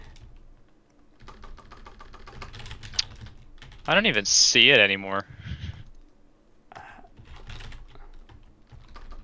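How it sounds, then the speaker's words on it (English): Rapid clicking of a computer keyboard while playing Minecraft, a quick burst of close, loud keystrokes in the middle, with a person talking before and after. "Oh, I'm typing in Minecraft."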